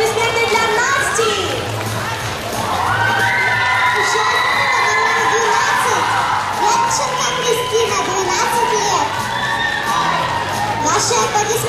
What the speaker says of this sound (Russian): Ваши аплодисменты для благожительной Кристины.